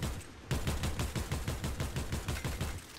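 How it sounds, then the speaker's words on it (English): Rapid automatic gunfire in a ranked online shooter game rattles off in a steady, evenly spaced stream after a short pause, close and loud with no talk over it. "I'm just shooting through trees because I don't have it."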